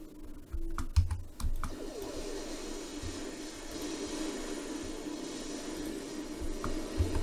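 Rapid clicking keystrokes from a new gaming keyboard, typed steadily and close by over a low background hum, with a denser burst of key presses near the start.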